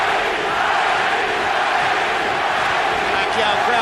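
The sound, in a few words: boxing crowd chanting Manny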